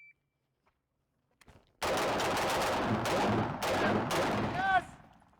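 Rapid bursts of gunfire ring out at a shooting drill, with several sustained volleys and short gaps between them, loud and close, followed by a brief electronic tone near the end.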